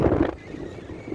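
Strong seaside wind buffets the microphone in front of the sea in Jizan, with a loud low rumble at the start that settles into a steady, gusty roar with no talking.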